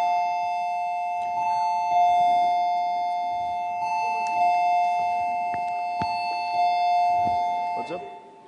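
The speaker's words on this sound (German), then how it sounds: "Ich dachte, die haben geklingelt." A doorbell-like ringing tone holds steady at a moderate level for about eight seconds while people talk over it.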